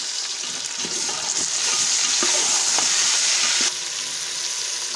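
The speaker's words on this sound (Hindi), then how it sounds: "थोड़ी देर आलूओं को फ्राई कर लेंगे" Potatoes frying in a pot, a steady, close hiss of sizzling oil with a few light stirring knocks, and no talking.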